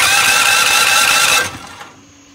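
A Predator 212 small gas engine cranks on its electric starter, a loud, steady mechanical churn that cuts off after about a second and a half and fades out.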